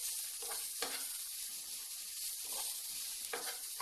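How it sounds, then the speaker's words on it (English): Spring onions and carrots fry gently in a pan on low heat, a soft steady sizzle with occasional stirring scrapes close by. "We just want to get the aroma out of the spring onions and the sweetness out of the carrots."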